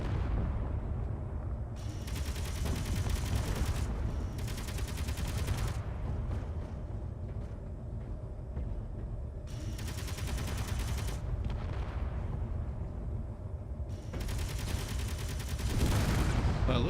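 Ships in the video game Space Engineers exchange gunfire: bursts of rapid, crackling shots come in repeated clusters over a steady mechanical hum, fairly faint in the mix.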